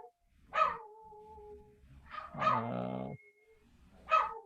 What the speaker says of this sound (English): My dogs are going nuts again.